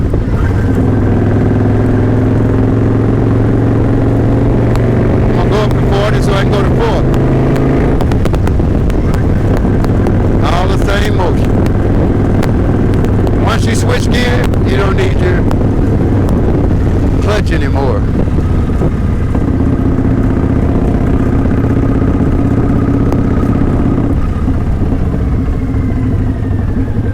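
A motorcycle rider accelerates while shifting up through the gears toward 40, the engine droning and climbing in pitch under heavy wind rush, with a voice talking over it.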